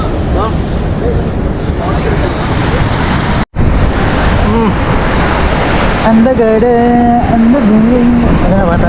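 Sea waves rolling onto Gangavaram Beach in Vizag, a steady broad wash of surf with wind buffeting, briefly cut out, later joined by a droning tonal engine-like hum.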